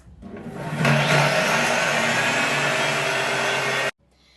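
A kitchen food processor chops 30 grams of beetroot, whirring up to a loud, steady motor roar that runs for about three seconds and then cuts off abruptly.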